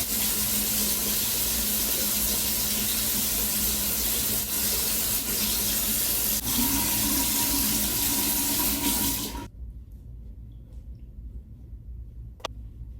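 Tap water runs steadily into a sink during face washing with Dove soap, a loud continuous broadband rush that cuts off abruptly near the end, leaving a quiet room with a faint click.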